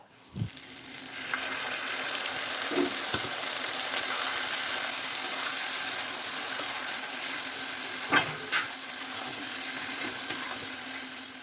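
Chili, onion and tomato paste sautéing in a pan, a continuous close sizzle with a few sharp scrapes and knocks from stirring, no voices.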